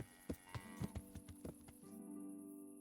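Cows mooing in the medieval video game Kingdom Come: Deliverance, a few short low calls in quick succession followed by one longer drawn-out moo, fairly faint and at a distance, with no talking.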